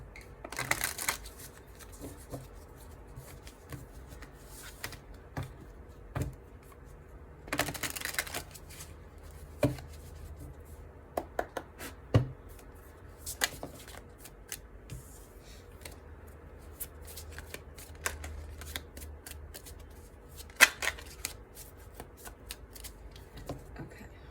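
Soft riffling and clicking of cards being shuffled, in a few brief bursts spread over a quiet room with faint background noise.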